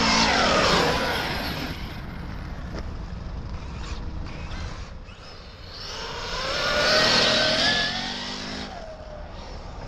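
A 12S Arrma Kraton RC car on a speed run with 1:1 gearing, its high-pitched motor whine rising and falling as it accelerates, passes and fades, with a possible catching noise from the drivetrain or tyres.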